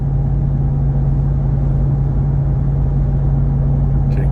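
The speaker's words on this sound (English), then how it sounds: "as we listen to the supercharger do its job," A car with a supercharger climbing a hill, its engine drawing air in a loud, steady low rumble with a constant hum and no break in tone.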